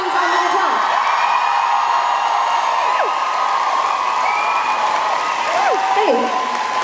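A concert audience applauds and cheers for the guitarist, a steady wash of clapping with whoops and shouts rising over it, as at a live show with a crowd filling the room.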